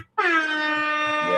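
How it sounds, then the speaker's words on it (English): A single loud air horn blast with a strong harmonic stack, sustained steadily for over a second after a brief silent start, alone with no talk. "Yes, love you a good air horn."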